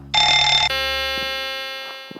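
Aircraft cockpit warning alarms blare in a low-flying airliner: a harsh buzzing tone starts, then gives way to a sustained electronic chime-like tone. It is loud and steady, fades slightly and ends with a couple of faint clicks.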